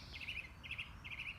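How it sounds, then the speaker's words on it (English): A song thrush sings in a tree overhead in February: three short, bright whistled phrases repeated in quick succession, faint and somewhat distant over quiet background noise. "there's a song thrush singing in the tree overhead"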